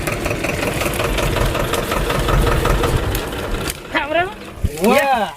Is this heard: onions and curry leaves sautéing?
no